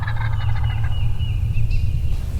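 Wild turkey tom gobbling in an open field during a spring hunt with hen decoys out, a loud, close rolling gobble with rapid stacked notes lasting about a second and a half over steady low wind rumble.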